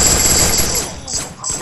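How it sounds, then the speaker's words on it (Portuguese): Gunfire in a shooter video game, a loud burst of rapid shots that fades into quieter rattling, brief and close. "Ah, mais um tiro."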